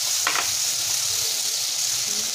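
Ghee sizzling in a hot kadhai before flour goes in for a three-ingredient fasting halwa, a steady loud hiss of frying fat that carries on without a break.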